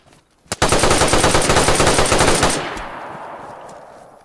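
Rapid automatic gunfire in the DayZ video game: a loud, sustained burst of closely spaced shots lasting about two seconds, then a reverberant tail fading away, with no talk over it.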